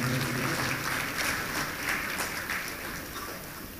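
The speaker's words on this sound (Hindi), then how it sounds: "जनाब जुल्फ़िकार अहमद खान साहब का ज़ोरदार तालियों से इस्तकबाल करें।" Loud audience applause at a Sufi music event, welcoming Zulfiqar Ahmed Khan to the stage. Continuous crowd clapping stays dense and steady, easing slightly toward the end.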